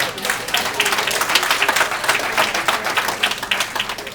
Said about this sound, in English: give yourself a quick round of applause, please